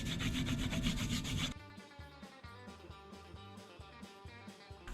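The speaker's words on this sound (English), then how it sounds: "Gonna let that soak up while I sharpen up my blades." Leather carving knife blades, including a swivel knife, being sharpened, giving a burst of steady rubbing at first, then a quieter series of rhythmic strokes, close and alone.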